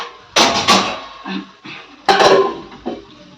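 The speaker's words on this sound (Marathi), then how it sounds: "याला झाकून देऊया" A metal lid set onto a pot of khichdi in a home kitchen, several close, clattering clanks and scrapes as it is positioned, loud against a quiet background.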